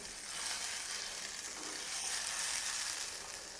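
Steady, loud sizzling of tomato puree hitting a hot oil tempering, a continuous crackling hiss with no voices.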